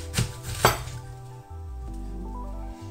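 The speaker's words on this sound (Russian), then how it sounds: "Шинкуем нашу капусту." A knife shreds cabbage on a board in a home kitchen, two sharp chopping strikes followed by a low steady hum from the stove.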